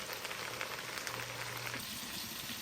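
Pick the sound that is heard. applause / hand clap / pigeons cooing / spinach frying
spinach frying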